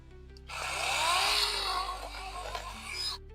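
A PRO-CRAFT PKA46 cordless chainsaw cuts into cherry plum wood, a rising motor whine that strains and holds for a few seconds under load before dropping away, close and fairly loud, with no talking.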